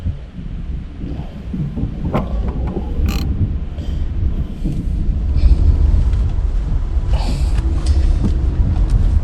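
Ratchet tightening the loose steering wheel inside a Peugeot 3008, irregular clicking and creaking strain sounds over rumbling background noise, close to the microphone, no talking.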